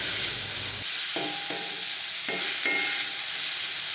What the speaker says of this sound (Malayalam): ഇത് ഇടയ്ക്ക് ഇടയ്ക്ക് ഇളക്കി കൊടുത്തില്ലെങ്കിൽ അടിയിൽ പിടിക്കും